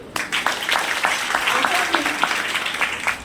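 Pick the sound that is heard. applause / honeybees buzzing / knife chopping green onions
applause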